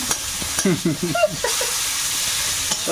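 Bay leaf and chopped onion fry in oil with a constant hissing sizzle, while a voice speaks briefly over the cooking early on.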